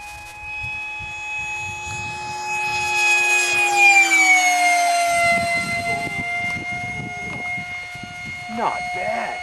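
A radio-controlled T-33 model jet flies past at high throttle, its turbine whine rising and then sweeping down in pitch as it passes close, loud and sustained, with rustling and faint voices underneath.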